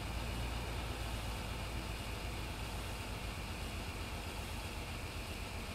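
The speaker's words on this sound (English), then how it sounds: "this little tractor doesn't really notice this thing behind it at all" A small tractor engine in Farming Simulator 17 on hard mode, pulling cheap forage equipment, drones steadily and loudly the whole time, a dense low rumble with an even idling-like texture and no speech.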